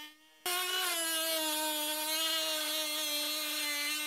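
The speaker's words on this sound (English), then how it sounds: "start cutting with the Dremel from the underside of the headlight" A Dremel rotary tool cuts into the plastic underside of a Volvo V70/XC70 headlight, a loud, steady high-pitched whine that starts abruptly after a brief quiet moment and holds its pitch close to the microphone.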